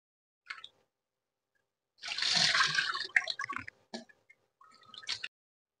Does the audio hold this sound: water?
yes